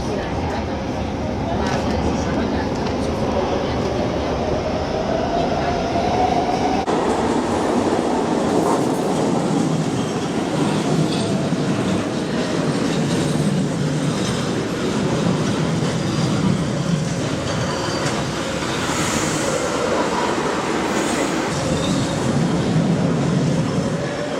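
Steady roar of a metro train in motion, with rumbling wheels and rattling carriages throughout, continuous and fairly loud.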